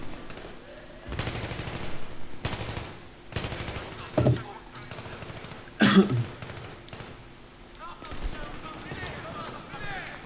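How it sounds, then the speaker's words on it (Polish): Bursts of gunfire in the Battlefield 3 Paris mission, sharp broadband volleys spaced through the stretch with one loud crack near the middle, mixed with in-game voices and ambient battle noise. "Skąd oni strzelają?"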